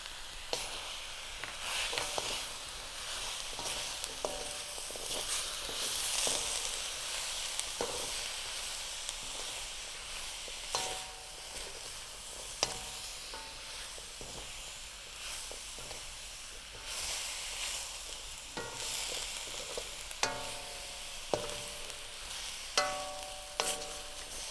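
A stir fry of vegetables with soy sauce hisses and sizzles in a hot pan, the steamy crackle punctuated by sharp clinks and scrapes of a utensil stirring against the pan.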